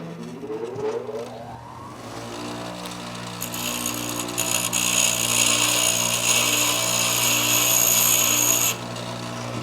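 Bench grinder spinning up with a rising whine, then grinding metal from about 3.5 seconds as a steady bright, hissing rasp over the motor hum, held loud and close for several seconds before easing off.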